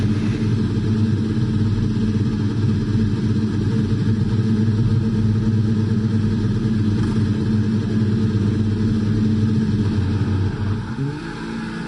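An F1 25 racing car at Silverstone holds a loud, sustained engine drone with a steady buzzing tone, dipping briefly near the end, close and continuous with no talk.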